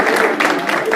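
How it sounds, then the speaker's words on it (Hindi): A studio audience claps for a contestant on a game show, a short, loud burst of close, dense clapping that lasts about a second. "तालियां इनके लिए"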